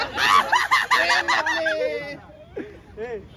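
A person imitates a peacock call at a crowded YouTubers meet-up in Mumbai, giving loud, rising and falling nasal wails over a few seconds amid the babble of a nearby crowd.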